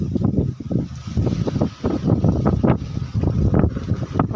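Cool wind blowing across an open farm field, buffeting the microphone in loud, continuous gusts with low rumbling surges and no voices.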